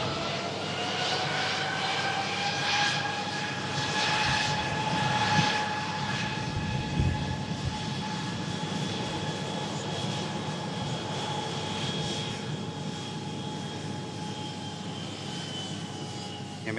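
An Airbus A321-200 airliner's jet engines roar steadily from a moderate distance, a broad continuous rumble with a sustained tonal whine throughout, and no talk over it.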